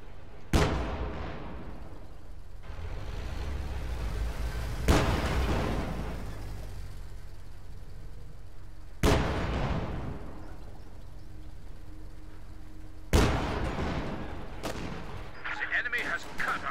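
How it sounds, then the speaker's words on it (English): Real-time strategy battle with four heavy booming artillery or gun blasts spaced several seconds apart, each decaying into rumbling, over continuous scattered gunfire, while a voice talks throughout. "We're firing on those riflemen."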